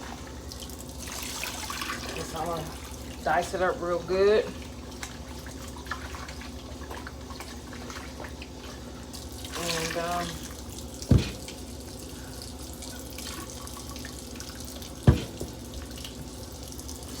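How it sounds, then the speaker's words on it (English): Tap water runs steadily into a kitchen sink while raw chicken is washed with water and lime, a continuous close splashing stream with occasional clunks, under a voice speaking briefly. "I'm just washing my chicken, you guys. Water and lime, cleaning it off."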